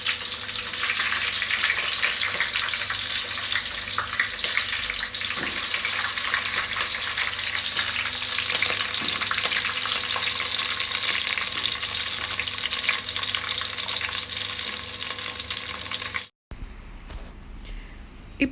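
Chopped onions and green chillies frying in hot oil with mustard seeds and cumin in a pan for sambar, a loud steady sizzle for about sixteen seconds that then cuts off abruptly.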